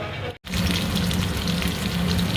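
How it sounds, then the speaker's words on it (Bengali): Cumin seeds and potatoes dropped into hot oil for a thankuni leaf and small fish dish, giving a loud continuous sizzle close by, broken by a brief dropout near the start. "তেল গরম হয়ে গেছে, তেলে জিরে দিয়ে দিচ্ছি, আলু দিয়ে দিচ্ছি।"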